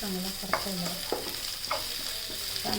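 Onion sautéing in a pan, a continuous close sizzle punctuated by four or five clear scrapes of a spatula stirring at a relaxed pace, without voices.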